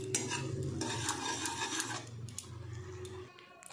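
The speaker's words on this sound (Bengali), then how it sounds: "এই দেখুন তিলটা আমি ঠিক এইভাবে পাক দিয়েছি" Roasted sesame seeds being stirred into cooked jaggery in a pan, a close rhythmic scraping and clinking of the utensil with a low sizzle under it, fading near the end.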